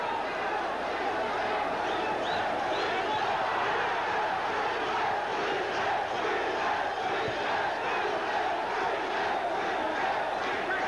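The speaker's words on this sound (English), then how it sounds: "This crowd is on its feet for their local hero." A boxing crowd in a baseball stadium roars for local hero Wilfredo Benitez during his 1979 fight with Carlos Palomino, a dense, sustained wall of cheering and shouting that never lets up.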